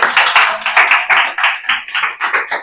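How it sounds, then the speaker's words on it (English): Guests at a wedding ceremony give a round of applause: close, bright clapping in quick uneven bursts that keeps going without a pause, with no talking. "Round of applause for Emma, please."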